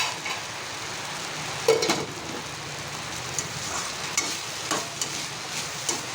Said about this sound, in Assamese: অকণমান টাইম ফ্ৰাই কৰি ল'ব,